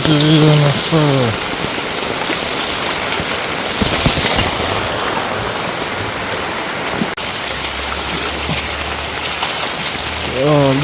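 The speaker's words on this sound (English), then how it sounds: "Crazy rain of fall." Heavy rain falls hard and constantly on a farm, a close, loud wash of pattering drops, with brief sounds at the start and end that may be a voice.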